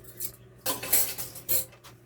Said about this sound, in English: Now I'm going to stir this all together.